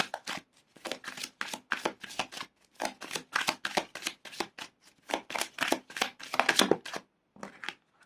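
Tarot cards are shuffled by hand in quick, close, crisp bursts of riffling and slapping, with short pauses between handfuls and no talk.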